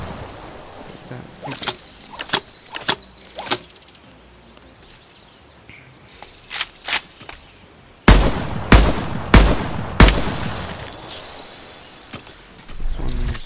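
A Tac Shotgun fires repeatedly in the Bonelab VR game: sharp, close blasts come in uneven bursts with quiet gaps and mechanical clicks between them, then grow louder and denser in the second half.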